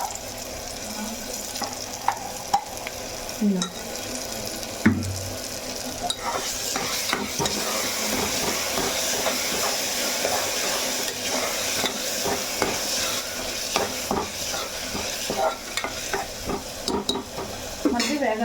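Masala frying in a pan for a goat head curry, sizzling loudly while a spoon scrapes and stirs in irregular knocks. Nobody talks.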